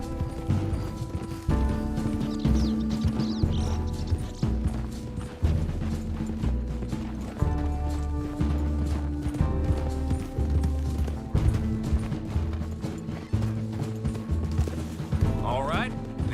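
Horse hooves clip-clop steadily in the video game Red Dead Redemption 2, set against layered game music and ambience, with a rhythmic trotting beat throughout.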